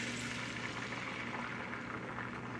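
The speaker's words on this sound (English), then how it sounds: "You can hear the sizzle." Steady, soft sizzling of an omelet cooking in a skillet over low heat, a continuous crackling hiss at low volume with no talking.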